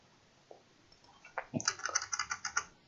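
Computer keyboard keys clack in a quick run of a dozen or so crisp taps after a few scattered presses, close and moderately loud with no voice over them.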